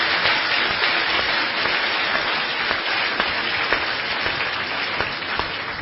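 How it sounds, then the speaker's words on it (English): Audience applause after a Buddhist talk, a dense, steady wash of clapping from a large crowd that holds at a loud level throughout and tapers only slightly toward the end. "Please give them a round of applause."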